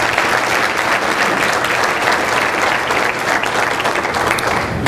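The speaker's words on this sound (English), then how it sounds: "Let's give them a round of applause, please." A crowd at the Clayton County 2015 State of the County Address applauds in a dense, loud, continuous wash of clapping that holds steady for several seconds with no talking over it.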